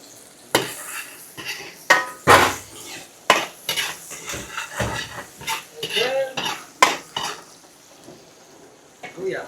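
Garlic and onion frying in a pan for Bicol Express, with a soft sizzle under repeated sharp clanks and scrapes of a utensil against the cookware, close and uneven.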